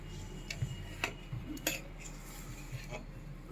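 A metal spoon mixes spices into a festive Pongal dish in a pan. Soft scraping and a few light clinks of spoon on cookware sound close and quiet, with no talking.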